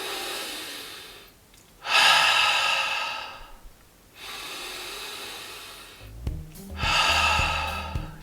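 A runner demonstrates a breathing technique: long, forceful exhalations and inhalations come in alternating airy bursts, close and clear, with a short snort-like catch near the end.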